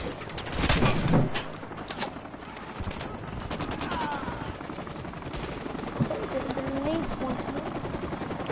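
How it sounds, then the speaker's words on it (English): Rotors of a pair of enemy attack helicopters thrum beneath bursts of gunfire and explosions in a Modern Warfare 2 Remastered battle, with a voice talking over the din. "We got a visual on a pair of enemy attack helicopters headed for your area."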